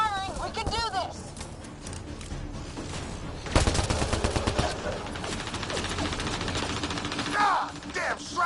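Gunfire in the video game Mass Effect 2, heavy rapid bursts and fusillades rattling continuously through a chaotic firefight, with shouted voices heard over the shooting.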